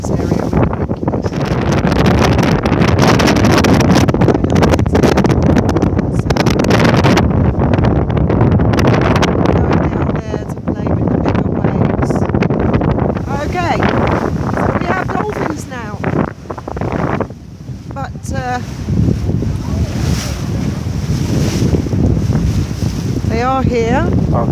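Strong wind roars across the microphone on a moving boat out in Gibraltar bay, loud and continuous for the whole stretch, with water rushing and the hull churning beneath, while people talk faintly under it.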